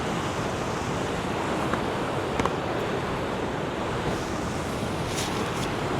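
Sea surf at Boscastle harbour on the Cornish coast, a steady broadband wash of waves rolling in with wind buffeting the microphone, continuous and fairly close, no voices.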